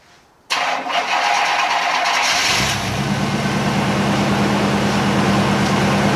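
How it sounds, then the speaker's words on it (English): A 1989 Chevrolet K5 Blazer engine cranks briefly and catches, then settles into a steady, loud running idle close by with no talking. "start the car up."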